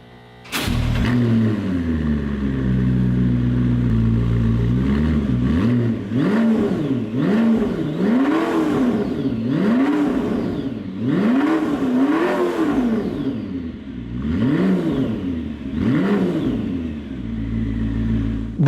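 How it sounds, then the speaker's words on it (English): A McLaren P1 MSO supercar engine revs hard again and again, loud and close, with rising and falling sweeps of pitch over a constant deep rumble and no talking. "I'm going to send you guys further back so you can hear really how loud this car is."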